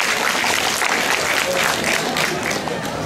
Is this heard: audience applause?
yes